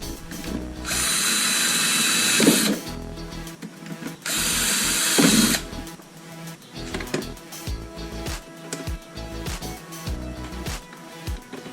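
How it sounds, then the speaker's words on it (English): A power drill whirs in two sustained bursts as it bores holes into a plastic bin, followed by clattering and handling noises. "Line up the second one and drill the holes."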